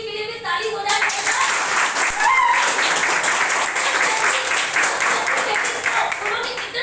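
An audience at a gathering breaks into loud, sustained applause for Modi, steady clapping that fills the space with a voice briefly audible at the start.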